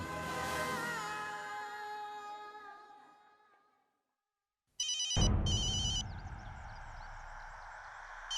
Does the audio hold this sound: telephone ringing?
yes